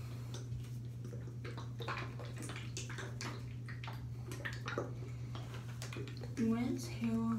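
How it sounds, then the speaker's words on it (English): Water runs over hair being rinsed during purple hair dyeing, a soft continuous splashing and trickling with a steady low hum beneath and a few brief squeaky tones near the end. "Rinse hair well,"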